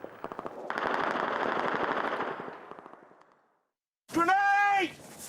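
Commando troops fire their guns at enemy positions at night, sending out a close, rapid stream of machine-gun bursts for several seconds that fades away. After a brief silence, a loud shouted voice follows.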